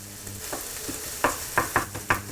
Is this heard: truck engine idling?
no